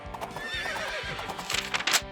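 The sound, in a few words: horse neighing and hooves clip-clopping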